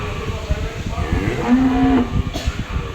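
A Friesian dairy cow gives a single drawn-out, low moo close by during milking on a farm in Bogura, Bangladesh, against a steady background of farm noise and faint clatter.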